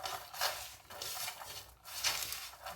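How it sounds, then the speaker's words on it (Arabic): Onion being rubbed by hand with salt, pepper and rosemary in a dish, giving soft, close rhythmic scraping and rustling strokes in repeated waves, with no talking. "بس كده هبتدي أدعك البصلة بالملح والفلفل والروزماري."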